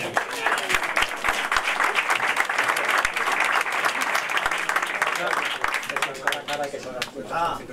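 Crowd applause at a boxing weigh-in and presentation for a European super welterweight title bout, loud sustained clapping with a few sharp claps, thinning toward the end as voices rise.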